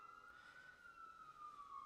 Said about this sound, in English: Here's the first siren